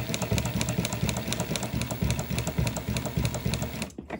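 A Singer 114w103 sewing machine chain stitching, steady rapid mechanical chatter with an even rhythmic pulse running close and continuous before it stops abruptly near the end.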